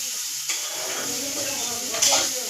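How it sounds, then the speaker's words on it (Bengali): Potato and bitter gourd fry in a pan with a continuous close sizzle and hiss, broken by two brief clattering stirs. "আলু করলা ভাজা চলছে।"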